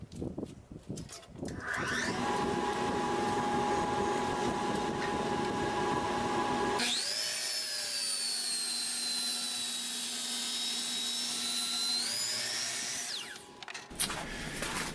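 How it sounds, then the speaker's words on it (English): A woodworking shop's machinery runs, first a steady broadband whir, then a higher whining tonal drone replacing it as another tool spins up, loud and continuous before cutting off near the end, with no talk. "So I'm going to turn on my dust filtration and we'll get this going."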